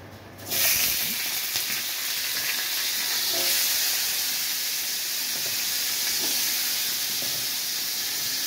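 Steady, bright sizzling of dried fish frying in hot oil, starting abruptly after a brief quiet moment and continuing evenly throughout, close and fairly loud.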